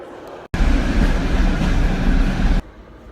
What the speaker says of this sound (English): So here I am at Brest railway station.